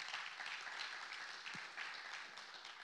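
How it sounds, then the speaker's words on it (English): A church congregation claps hands in praise, a soft, even patter of many hands heard at a distance, steady throughout without talking. "give him a hand clap of praise."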